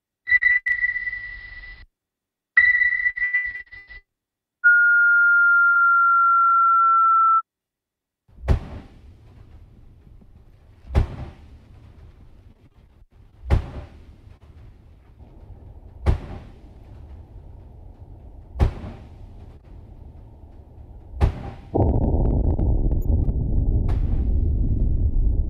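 Underwater recordings of noisy ships: a series of tones and periodic sharp thuds over a low rumble, ending in a loud broadband machinery roar, with no talking.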